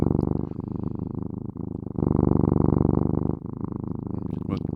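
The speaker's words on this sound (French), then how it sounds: "le ronronnement des chats" A cat purrs close and steady in a continuous low rumble, with a short break around the second mark and a faint click near the end.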